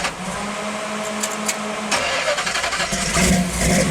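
A 392 Hemi Chrysler V8 fitted in a 1953 Ford panel truck with loud exhaust and electric exhaust cutouts cranks and fires up about halfway through. It settles into a loud, rumbling idle that follows a brief low hum.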